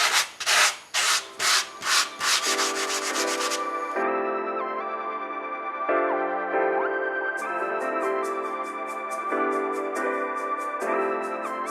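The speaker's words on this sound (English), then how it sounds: "I am now going to quickly use the sandpaper to go over where I've put putty, just so that it's smooth and ready for me to paint." Sandpaper rubbed over putty on a skateboard deck: about ten rhythmic, close scratchy strokes that speed up and shorten, then give way to tonal music for the rest of the clip.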